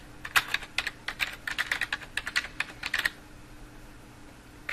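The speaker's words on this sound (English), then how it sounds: "If we use our keywords from the previous example, we can type in" Search keywords typed on a computer keyboard: quick, close key clicks in uneven bursts for about three seconds, then quiet, with one sharp click at the very end.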